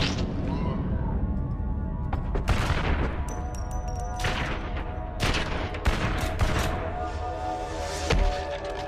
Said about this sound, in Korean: 또 한 번의 희생에 제스퍼는 분노하게 되고 분노를 가득 담아 총알 세례를 퍼붓습니다.